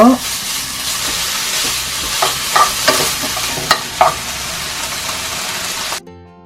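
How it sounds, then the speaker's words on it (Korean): Beef fries without oil in a preheated pan for Korean skewers, giving a loud, continuous sizzle with several scraping stirs and clacks before it cuts off abruptly near the end. "예열된 프라이팬에 기름 없이 고기만 익혀주세요"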